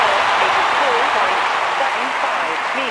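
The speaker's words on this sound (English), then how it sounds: "Crowd responding to that." A stadium crowd cheers and applauds after a javelin throw at the London 2012 Olympic Games, a steady, dense roar of voices and clapping that holds loud and even throughout, with a commentator's voice faintly underneath.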